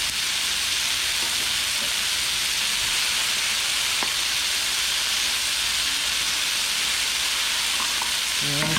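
Sliced mushrooms sautéing with salt and pepper in a hot pan, a steady close sizzle and frying hiss running the whole time with a few faint clinks near the end.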